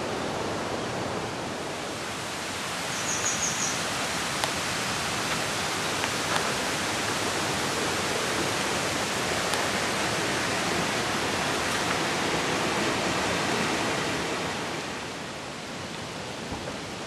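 A small spring on Mt Ryuso in Japan's mountains pours water in a steady, continuous rush that stays close and even for the whole stretch, with no voices over it.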